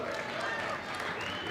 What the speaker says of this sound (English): Crowd trying to cheer him on here.